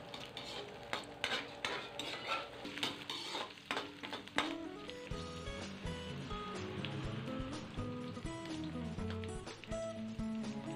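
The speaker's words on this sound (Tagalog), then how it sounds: "Pagkalagay po ng sibuyas, haluin lang po natin ng tuloy-tuloy." Onions, garlic and ginger stirred steadily in a hot pan for chicken curry, with a spoon scraping and clinking through continuous sizzling; busy stirring strokes early, then a steadier frying hiss with a faint voice in the background.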